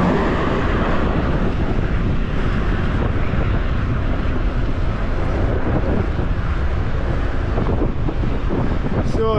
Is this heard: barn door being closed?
no